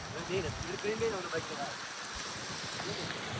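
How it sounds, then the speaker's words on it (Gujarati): Steady rain patters on surfaces with a soft, continuous wash of water, a faint voice briefly audible near the start. "જો મિત્રો આ છે વરસાદ।"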